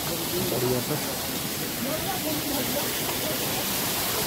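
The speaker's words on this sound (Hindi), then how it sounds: "पैदल चलते चलते यहाँ पे एक वाटरफॉल मिल गया।" Waterfall beside a high mountain trail on the Kedarnath pilgrimage route at dawn, a steady broadband roar of falling water filling the scene, with brief speech heard over it.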